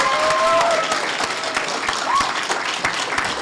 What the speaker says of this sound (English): Let's give Jeffrey a warm round of applause.